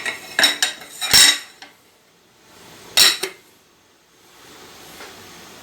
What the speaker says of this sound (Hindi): इसको हम ढाँप देंगे।